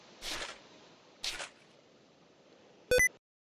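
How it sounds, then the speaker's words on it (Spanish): A Windows error alert chime sounds once near the end, short and clear, after two soft rustling clicks during a Minecraft session. "Odio no poder shiftear varias veces porque me salta la alarma, el error este de Windows raro"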